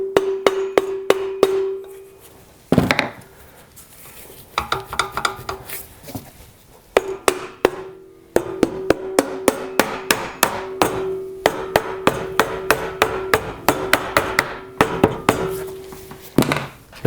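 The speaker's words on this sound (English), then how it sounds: "Now you can tap it lightly just to get the cover on." A sump cover is tapped onto a Briggs & Stratton engine crankshaft with sharp, ringing metallic taps, repeated in quick runs separated by short pauses, close and loud with no talking.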